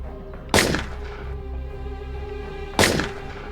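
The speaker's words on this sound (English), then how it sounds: "People shoot the Incubus." Two sharp, loud gunshots about two seconds apart, each with a short decaying tail, over a low steady background rumble in a scene from the film Incubus: New Beginnings.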